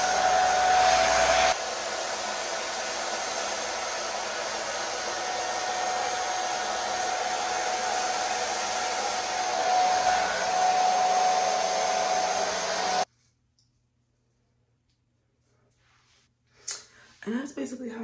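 A blow dryer roars steadily up close while a wig is being styled, then cuts off abruptly into near silence before faint handling noises.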